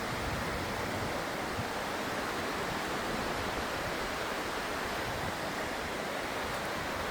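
Steady rushing water of the West Lyn river near Watersmeet at Lynmouth, a dense continuous broadband roar from fast-flowing clear water over rocks, constant and unbroken throughout with no voices.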